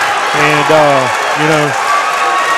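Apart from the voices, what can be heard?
boxing crowd cheering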